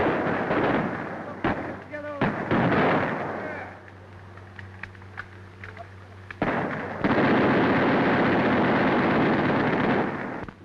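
Battle gunfire at a desert fort from a 1937 adventure film: dense, continuous bursts of shooting and rumbling noise fill most of the stretch, with a quieter break partway through and louder firing resuming afterward.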